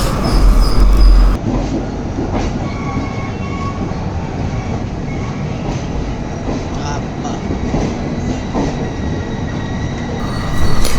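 A long Tirumala Express passenger train with sleeper and AC coaches rolls steadily past, its wheels clattering and faintly squealing in a continuous loud rumble that swells again at the end.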